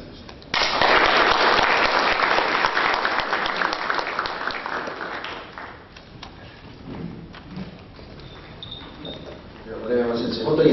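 Seminar audience in Tokyo applauding loudly and steadily for about five seconds, then tapering into scattered claps and a murmur of voices, with a brief swell of clapping again at the end.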